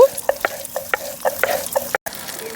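Pieces of fish frying in hot oil for a Bengali broccoli and bata fish curry, a steady crackling sizzle broken by repeated short bursts of spatter, close and moderately loud with no talking.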